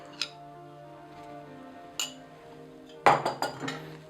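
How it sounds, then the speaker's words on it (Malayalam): A spoon clinks against a bowl while spices, thyme, pul biber and tomato sauce are mixed for Turkish şiş tavuk: two isolated light taps, then a quick cluster of clinks over a faint steady hum. "പിന്നെ ഇവയെല്ലാം നല്ലതുപോലെ മിക്സ് ചെയ്യുക"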